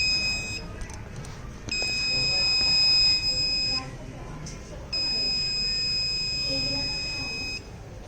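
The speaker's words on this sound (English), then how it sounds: "high temperature alert will be announced to the buzzer" A high-pitched electronic buzzer on a distribution transformer monitoring system sounds a high temperature alert in two long sustained bursts with a short gap between, steady and piercing over faint background noise.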